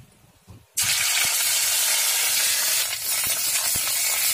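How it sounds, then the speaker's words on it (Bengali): Ginger paste hits hot oil with a bay leaf and bursts into a loud, steady sizzle after a quiet start, hissing continuously with a few faint knocks of stirring, slightly easing near the end. "আদা বাটা দিয়ে একটু নাড়াচাড়া দিয়ে নেব।"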